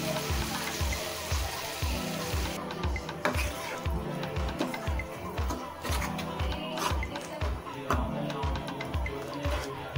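Potato and green pea kurma simmering in a pan after water is poured in with ground shallots, giving a steady close bubbling and pattering under a faint low rhythmic thump, with no talk.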